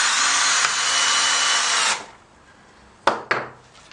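A cordless drill, not fully charged, whines loudly as it drives a drywall screw for about two seconds, then stops; two short sharp clicks or taps follow.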